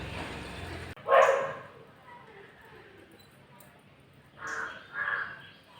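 Crows caw loudly nearby, a harsh burst early on and two more calls near the end, with quieter background noise between.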